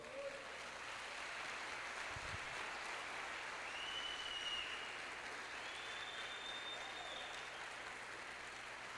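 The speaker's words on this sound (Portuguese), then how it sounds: "Você pode aplaudir o Senhor, irmão?" A church congregation applauds in a dense, even wash of clapping that holds at a faint, distant level for the whole stretch, with no clear breaks.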